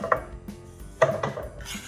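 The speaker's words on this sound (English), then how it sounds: "So I'll put the onions in the pan" Onions go into a frying pan during a home vegetable stir fry, heard as a close clatter of pan and utensil knocks with two sharper metallic hits and a soft rustle, no talking.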